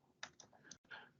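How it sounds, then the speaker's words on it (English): Quick keystrokes clatter on a computer keyboard, a handful of soft clicks in a short uneven burst, faint and close, with no one speaking. "excuse my typing"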